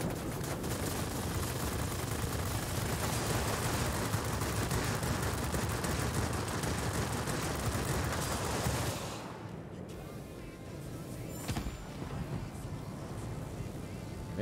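Dense, continuous gunfire in a video game battle roars loud and unbroken for most of the stretch, then drops away to a quieter background with a few scattered shots.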